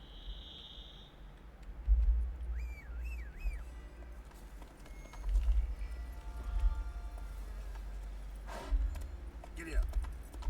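A horse gallops in The Witcher 3 on Death March difficulty while riding around Beauclair, rhythmic hoofbeats thumping in repeated bursts under game music and effects.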